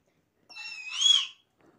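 A child imitates the call of a koel with a single rising, whistled note lasting about a second, clear and close in an otherwise quiet moment.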